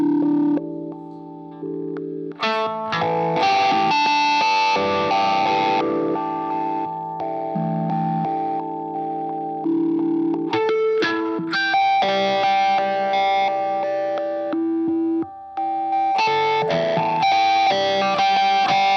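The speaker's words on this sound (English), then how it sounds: "So what you're hearing is the ObiWan going straight into the front of the amp." An electric guitar runs through an ObiWan wah filter effect pedal straight into the front of an amp, giving funky, sweeping, heavily filtered riffs with bursts of distorted chords, loud and continuous.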